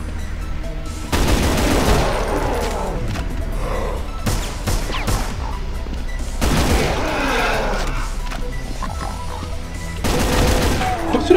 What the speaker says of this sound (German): die schießen hier durch die Wand durch